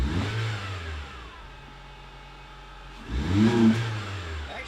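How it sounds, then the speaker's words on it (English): A Honda Civic engine under repair with a new belt revs up twice and drops back, each rise a loud surging roar nearby that sinks to a low idle in between. "Rev it and let off."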